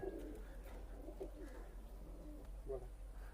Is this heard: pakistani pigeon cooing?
yes